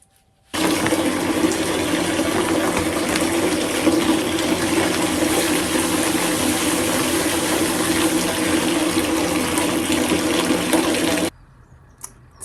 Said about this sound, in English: while I run a bath